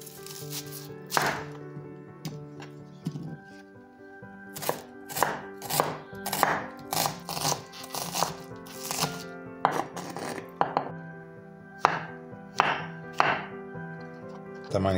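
Knife chopping button mushrooms into thick slices on a cutting board: steady rhythmic thunks, close and clear, coming in quick runs with brief pauses and no talk.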